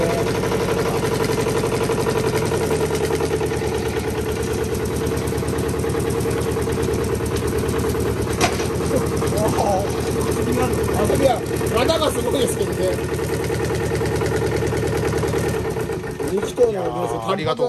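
An antique stationary petroleum engine chugs with a steady low, pulsing beat that continues throughout, while people talk over it nearby.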